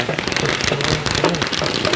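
Firecrackers burst continuously at a Hindu temple festival, a dense loud crackling barrage of rapid pops that never lets up, over a busy outdoor crowd.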